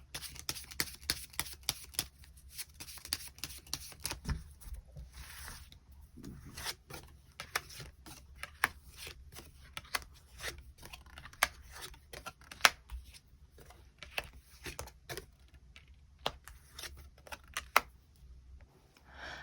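Tarot cards are shuffled and drawn in a quiet room, with soft riffling and sliding through most of the stretch and frequent light clicks and slaps as cards are handled and laid down.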